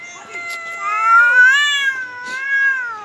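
A cat in heat meows in long, drawn-out wails that rise and fall over about three seconds, loud and close, with no talking over it.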